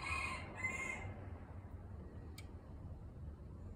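A rooster crows once at the start, a short high call that fades within the first second against a low steady background hum, with no talking.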